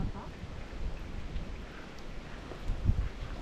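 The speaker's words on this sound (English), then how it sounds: "And it's raining." Rain patters steadily at Mount St. Gwinear car park, a soft, diffuse hiss with scattered drop hits and a few louder splashes, fairly faint and continuous.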